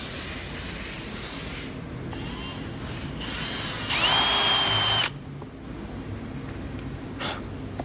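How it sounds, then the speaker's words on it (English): A power drill whirs in short bursts while trimming the fender of a 2006 Honda CRF450R trike, rising to a louder, higher-pitched run near the middle before cutting off, with a steady background hiss. "So Alex is gonna video me drilling that"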